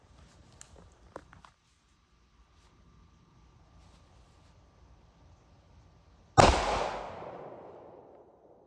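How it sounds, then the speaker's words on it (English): A single loud hard-cast pistol round fired over a chronograph outdoors, a sharp crack with a decaying echo, preceded by faint handling clicks and near silence. "I'm going to try to get one more shot over the chronograph"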